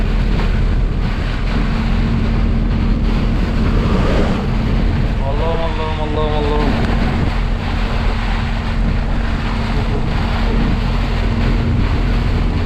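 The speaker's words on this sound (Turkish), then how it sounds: "İnce ince attı ama böyle çok kuvvetli bir rüzgar" Powerful storm wind with light drizzle roars and rumbles across the microphone nonstop over flooded olive groves, with a voice briefly calling out repeatedly beneath the gusts.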